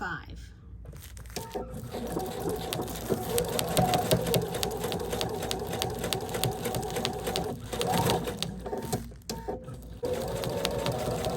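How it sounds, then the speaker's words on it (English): A sewing machine stitches slowly through thick Sherpa fabric with a 90/14 stretch needle and a 3.5 stitch length, its rapid needle chatter running in steady bursts with short pauses while a voice talks over it. "I feel like I'm having to sew slower with the Sherpa because it's so thick"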